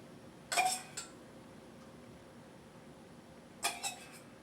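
A spoon scrapes and clinks against a dish in two short bursts while stirring Beijing beef, close and fairly faint, with a quiet pause between them.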